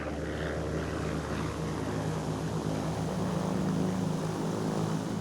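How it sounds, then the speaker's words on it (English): A private propeller plane drones steadily overhead, a continuous engine and airscrew hum holding an even level throughout under a faint tonal bed. "Hitler crisscrosses Germany in a private plane during the first modern electoral campaign."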